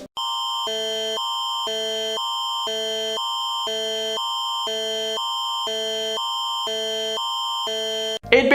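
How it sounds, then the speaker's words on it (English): An Amber Alert emergency broadcast tone blares steadily, a loud harsh two-pitch electronic alarm pulsing in a regular on-off pattern for about eight seconds, then cutting off abruptly. "everyone was sent this scary alarm at the exact same time"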